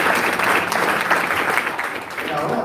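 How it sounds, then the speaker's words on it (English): A congregation at a Messianic worship service clapping in praise, steady and fairly loud, a continuous dense patter across the moment. "Let's give Messiah a hand clap of praise"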